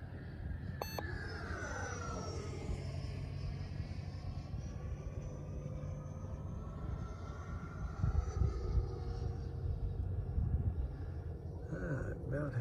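FMS Futura V2 RC jet with an upgraded ESC flying at full power straight up, a steady high whine and whoosh of its electric ducted fan that swells slightly later, heard continuously outdoors.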